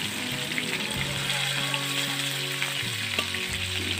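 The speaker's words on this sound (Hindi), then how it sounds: "अब इसमें 2 मीडियम साइज की प्याज की पेस्ट लेकर इसे ब्राउन होने तक भून लेंगे" Onion paste, two medium onions' worth, fries in oil in a kadai alongside ginger-garlic paste, giving a steady, close hiss and sizzle with faint stirring, heard alone.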